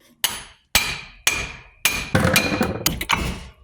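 A hammer taps a ball joint separator into the front axle of a Hummer H3, with six sharp, ringing metallic strikes at irregular intervals, the later ones quicker and closer together, loud and close with no talk.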